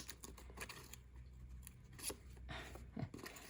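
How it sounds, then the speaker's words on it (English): Quiet, close snipping of scissors trimming paper for a sunburst card, a quick series of small crisp cuts and rustles. "And then I just trim this off. My scissors again."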